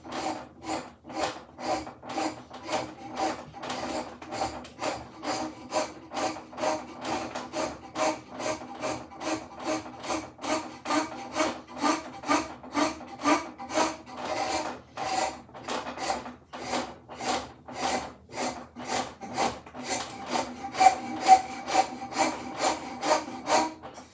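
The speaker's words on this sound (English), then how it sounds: "the best decision, the smartest decision, is to hit it with a rasp." A hand rasp files a wooden axe handle in steady, rhythmic strokes, each rough scraping pass close and loud, continuing alone at an even pace with a few heavier strokes near the end.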